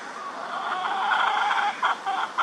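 A white game hen named Willow clucks steadily in a backyard poultry pen, a busy run of close, moderately loud clucks and short calls that swell into brief bursts toward the end, with no talking.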